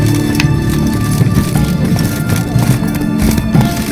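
Roach, a horse in The Witcher 3, runs with a steady, busy patter of hoofbeats that carries on throughout, loud and close, over a dense, continuous game soundscape.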